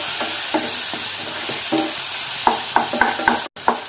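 Chopped ripe banana and raisins being sautéed in a pan, a steady sizzle under repeated spoon scrapes and taps that come faster and louder toward the end, with no talking.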